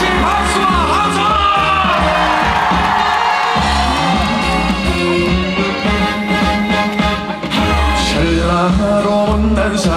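Ten seconds of sustained audience applause and cheering at an outdoor apple festival concert in Mungyeong, dense and loud, with yells and whoops mixed over the driving beat of the stage music.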